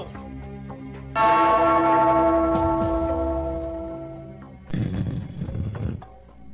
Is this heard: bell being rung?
yes